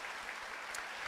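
Brief burst of church congregation applause, fairly faint and even, lasting about a second without speech.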